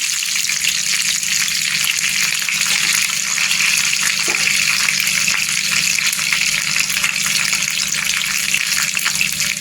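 Cumin seeds and curry leaves sizzle steadily in hot oil in a pan for a brinjal curry, a dense, continuous frying hiss with a close, even loudness and no voices.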